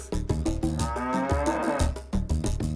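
Cattle moo on a smallholder dairy farm in Bomet, Kenya, with one long, loud, close low moo and a shorter call behind it, set against rhythmic background music.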